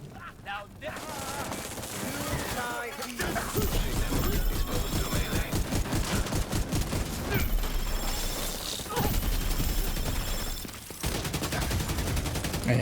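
A weapon fires in a sci-fi shooter video game, with rapid repeated bursts of gunfire in a steady rhythmic pattern and brief pauses, alongside game effects and talk.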